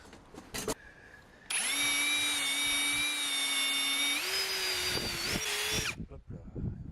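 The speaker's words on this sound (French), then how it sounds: "Je trace les trous pilotes et je les perce." A power drill bores pilot holes for a trike shelter build, spinning up loudly for about four seconds at a steady whine that shifts pitch partway through, with scraping and knocks before and after.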